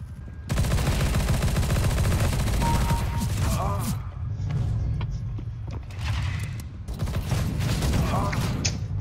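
Rapid, dense gunfire in a first-person shooter game crackles almost continuously, with short pauses and bursts resuming, loud and close.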